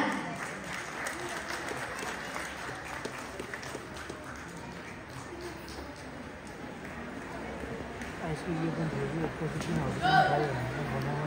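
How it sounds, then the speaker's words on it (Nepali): Audience applause welcoming newly introduced guests, a steady wash of clapping under crowd murmur that swells toward the end with a louder burst. "कृपया उहाँहरूलाई जोरदार तालीले स्वागत गरिदिनु होला।"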